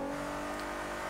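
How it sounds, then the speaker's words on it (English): Japanese luxury sports car engine in the Forza 6 racing game, a steady loud revving drone held at high pitch without any talk. "I hope you enjoyed the sound of the car"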